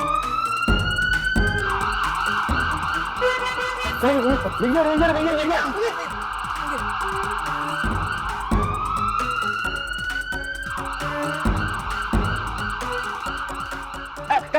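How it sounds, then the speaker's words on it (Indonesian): An ambulance siren wails loudly and continuously, rising and falling in long sweeping cycles. It has a faint drone beneath it, and people talk briefly over it. "Siapa yang dibawa ambulan?"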